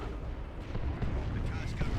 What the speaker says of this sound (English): it's the Sentinel shooting stuff